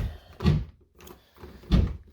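A door inside a house being opened, with two dull thumping knocks and rattles of the door moving, close by and moderately loud, separated by a brief quiet pause.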